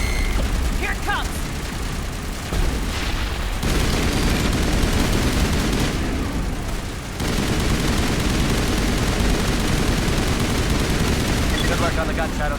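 Sustained bursts of gunfire and loud combat noise from the video game Mass Effect, dense and continuous across the scene with a brief lull in the middle, voices mixed in beneath the shooting.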